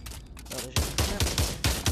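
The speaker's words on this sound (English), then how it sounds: "M1 Garand. Popping some shots." Shots from an M1 Garand rifle in the video game Pavlov, a run of about five loud, evenly spaced rifle reports after a quieter opening, fired at a steady rhythm.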